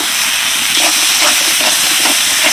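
Fried potatoes stirred into a ridge gourd and bata fish curry in a pan, a loud steady hiss with soft repeated scraping strokes, close by.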